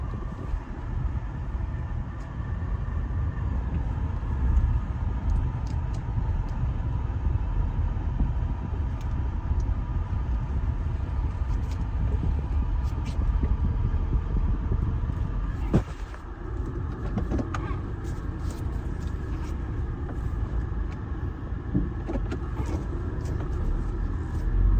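A car driving along a road, heard from inside as a steady, loud low rumble of engine and tyre noise that continues for the whole stretch, with a brief dip and a few knocks near the middle.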